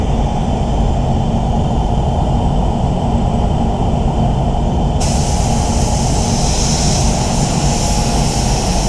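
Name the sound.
spray gun spraying silver basecoat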